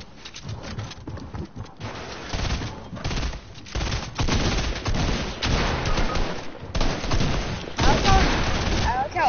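Rapid gunfire in the video game Fortnite, dense crackling bursts of shots running almost nonstop at close range, with voices talking over the shooting.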